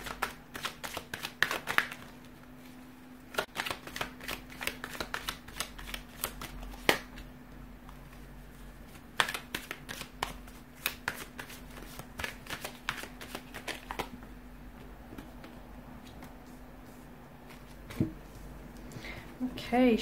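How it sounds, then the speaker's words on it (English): Tarot cards are shuffled repeatedly up close, a dense run of quick riffling and soft slaps, with a low hum and a voice talking quietly. "So we'll go ahead and give the cards a shuffle here"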